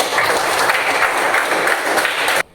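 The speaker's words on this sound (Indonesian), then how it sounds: "tepuk tangan untuk" A classroom of students applauds in a steady, bright burst of many hands, loud and close, then cuts off abruptly at the end.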